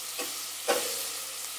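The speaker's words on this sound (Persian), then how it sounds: "اجازه میدیم پیازمون همراه با روغن سرخ بشه" Onion frying in oil in a pan, a quiet steady sizzle with two brief scraping stir strokes, close and faint.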